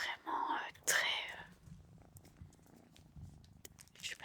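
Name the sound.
cat Hécate purring while being petted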